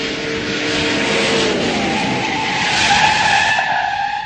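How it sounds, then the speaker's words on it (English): An old muscle car brakes hard from 60 mph, its tires skidding with a loud, continuous screech that holds steady for several seconds, close and alone without talk. "60 miles an hour is pretty fast in one of these old cars to just be slamming on the brakes"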